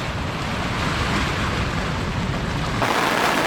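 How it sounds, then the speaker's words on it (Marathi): Floodwater from the swollen Nar river pours over a dam in a continuous, loud roar of rushing water with no voices, the rumble shifting slightly near the end. "आमच्याकडं हा जो खळखळ वाहणारा जो पाण्याचा स्रोत आहे जे पाणी आहे"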